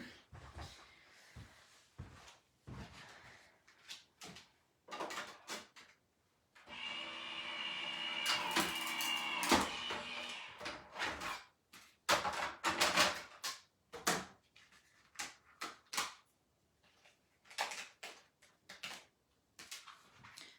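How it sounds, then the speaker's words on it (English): A die cutting machine cutting out paper for mixed media crafting: a sustained mechanical whirring run of several seconds, surrounded by irregular clunks, rattles and handling knocks, with no talk. "I'm going to run over to my die machine and cut this out"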